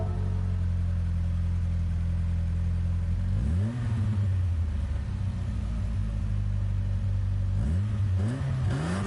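A Volkswagen Golf 1 engine in Gran Turismo 7 holds a steady low drone, then rises sharply in a revving sweep, settles, and revs twice more in quick succession, loud and close.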